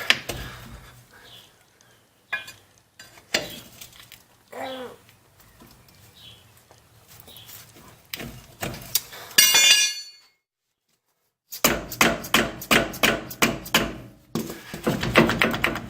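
Metal hammer taps on a Ford F-250 ball joint during suspension work, a run of sharp bright clinks in quick bursts, close and fairly loud, with a brief silent gap between series of strikes.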